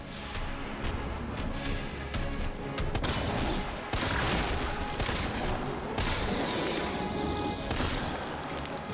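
Repeated magnum gunshots in Resident Evil 2 Remake boom out amid dense, continuous combat noise, with several sharp heavy blasts spaced a few seconds apart, loud and full.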